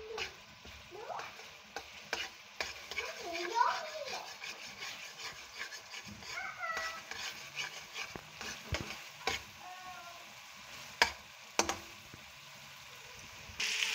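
Urad dal being roasted and stirred in a pan for charsi-style mash ki daal, with steady scraping and rubbing strokes and short clatters over a faint dry sizzle, close and moderately loud, no talk.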